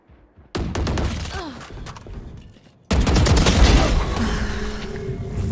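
Gunfire in a tactical shooter video game bursts out in two dense, loud volleys, each crackling rattle lasting a couple of seconds, with a brief quieter gap between them.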